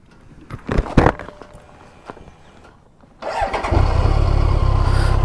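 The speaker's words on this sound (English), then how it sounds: "let's turn the bike back off, and back on" A BMW K1 motorcycle engine, a barn-find bike with intermittent faults, is cranked and fires up: a few clunks and a whirring starter, a brief pause, then the engine catches and settles into a loud, steady idle close by.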